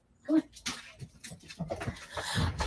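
A small dog whimpers and yips in short, uneven bursts close by, mixed with soft panting and some faint background sounds.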